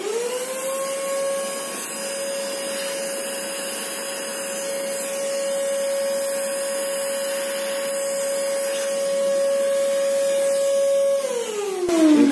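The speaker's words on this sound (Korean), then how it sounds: "일단은 이 안을 청소기로 한번 깨끗하게 한번 밀어줍니다." A vacuum cleaner runs inside a Feima coffee grinder to clear ground coffee from the inner burr, a steady high-pitched whine with a strong tone that holds throughout and winds down at the very end.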